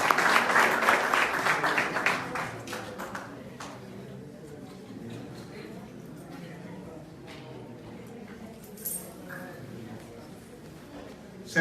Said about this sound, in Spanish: Demos un aplauso al Señor por sus vidas de ellos.